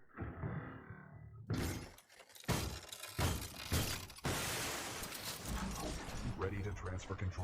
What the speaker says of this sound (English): How do we break glass?